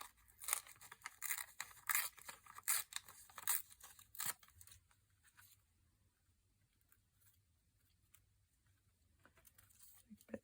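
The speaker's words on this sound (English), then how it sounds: "So I'll rip that down there." Master board paper is ripped by hand for a junk journal page, giving a run of loud, close tearing bursts over the first four seconds. Quieter rustling and handling sounds follow.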